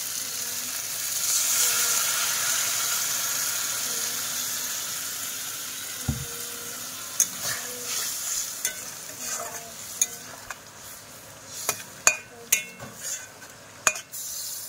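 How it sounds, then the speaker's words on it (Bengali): Fish frying in a curry pan, with a steady sizzle first and then a run of scraping, knocking spoon strokes against the pan, close and moderately loud, with no talking. "এই মাছগুলো দিলাম, এইগুলো দিয়ে আর একটু নাড়াচাড়া করে নেবো।"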